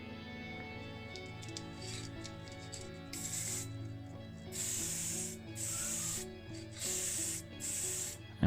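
Vallejo black primer is sprayed onto a 1983 Ford Sierra XR4i model car casting in several short hissing bursts, each lasting under a second or so, over faint background music.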